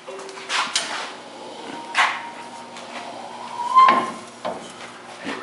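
A 1977 Chrysler Cordoba body being spun on a rotisserie in a shop, giving scattered metallic clunks, creaks and knocks of varying loudness with one brief squeak.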